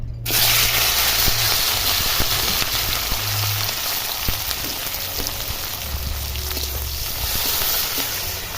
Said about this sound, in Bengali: তেল গরম হয়ে গেছে ওর মধ্যে পেঁয়াজ কুচি লঙ্কা কুচি টমেটো কুচি দিয়ে দিচ্ছি